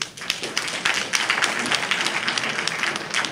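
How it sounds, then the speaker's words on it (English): A crowd clapping hands in steady applause, dense and continuous for a few seconds, with no talking over it. "clap your hands."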